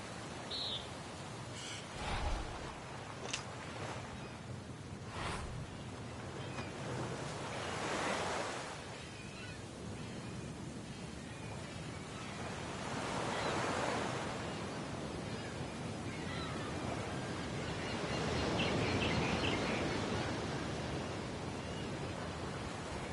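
Video game waves wash around an island golf course made of tiny islands surrounded by water, a soft broad surf rushing in slow swells, with a few brief knocks early on and no talk.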